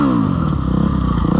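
Dirt bike ridden on rough trails, a loud close engine drone with a choppy, pulsing rumble and clattering undertone throughout.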